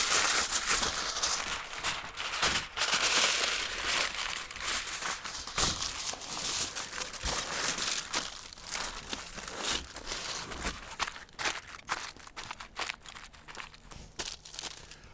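Foil or butcher paper crinkles and crackles in steady bursts while a brisket is wrapped for the smoker, close and fairly loud at first, then softer and more scattered toward the end.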